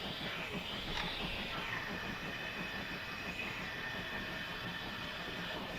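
A steam train climbs a gradient on the North Somerset Railway in Train Simulator 2021, with a steady rolling rumble, faint wheel clatter and hiss running unbroken throughout.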